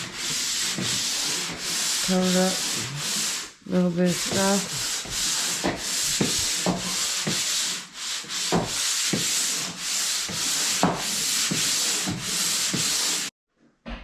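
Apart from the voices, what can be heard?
sanding walls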